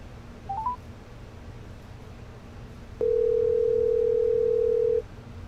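Placing a phone call: a brief rising run of dial beeps, then a steady telephone tone holding for about two seconds over faint background hiss before cutting off.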